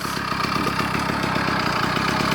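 A cheap 2-stroke engine on a motorized bicycle, run on a 32-to-1 fuel mix, buzzes steadily at a fast, even idle with a rapid pulsing rattle, close and continuous throughout, with no voices.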